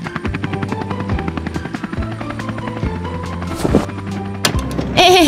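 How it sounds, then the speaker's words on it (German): An animated cartoon helicopter carrying heavy cargo, its rotor thumping in a rapid rhythmic chop, loud and close, with musical tones underneath and a few sharp knocks near the end. "der Hubschrauber bringt eine große, schwere Fracht"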